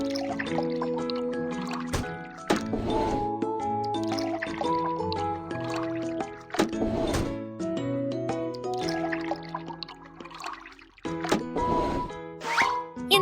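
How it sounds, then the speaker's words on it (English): Cartoon liquid glugs and splashes as it pours into a toy car's tank, with plopping drips and bubbly squishes layered over bright, playful background music. "Pour liquid into the correct tank."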